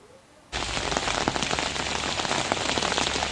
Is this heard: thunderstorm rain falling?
yes